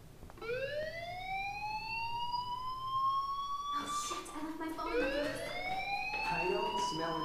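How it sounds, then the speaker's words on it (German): Rising and falling electronic alarm tones from the video game Life is Strange, sweeping upward in repeated cycles at steady loudness, with a second overlapping wail joining partway through. "Hey, do you hear that fire alarm?"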